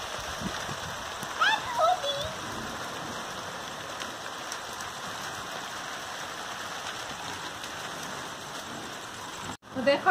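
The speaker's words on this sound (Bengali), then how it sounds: "এই দেখো এখন বেশি করে বৃষ্টি পড়ছে" Heavy rain pours down outdoors in a dense, steady hiss of drops spattering on surfaces, close and unbroken, with a brief bump near the end.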